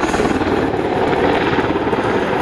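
A Boeing AH-64 Apache attack helicopter performs a rapid climb during a flying display at the ILA Berlin Air Show 2016. Its rotor and engine roar loudly and steadily, a dense continuous din with no talk.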